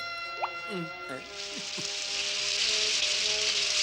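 Rain pours from the Smurfs' malfunctioning weather machine, a steady hiss building and filling out after a few sliding, cartoonish tones near the start.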